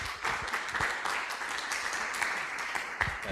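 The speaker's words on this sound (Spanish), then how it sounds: "recibamos con un aplauso a Oscar" An audience applauds to welcome Oscar before he speaks, a soft, steady patter of clapping at moderate distance, without talk over it.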